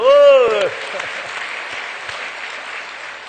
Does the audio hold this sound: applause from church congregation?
yes